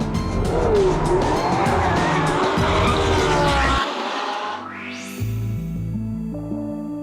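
Tires squeal and skid as a Porsche 918 Spyder's rear end breaks away under its roaring engine, then the engine note changes as the car shifts and pulls away, with music underneath.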